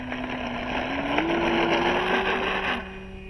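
An FMS Ranger 1220mm RC plane on a 4S battery, its electric motor giving a steady whine that rises in pitch as throttle increases, heard from the ground at moderate distance.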